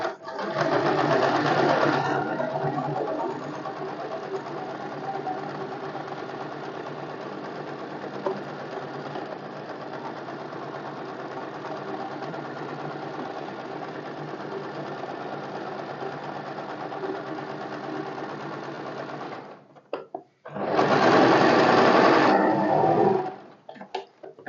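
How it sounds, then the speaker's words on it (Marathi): Sewing machine stitching zigzag lines on salwar fabric, a loud rapid mechanical whirr in a short burst, then a long quieter stretch of running, and another loud burst near the end. "हे बघा, अशा झिगझॅग लाईन मी मारून घेतली आहे."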